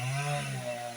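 A chainsaw running with a blunt, dull chain while cutting wood for a São João bonfire, a steady motor drone that eases slightly partway through, close and loud with no talk.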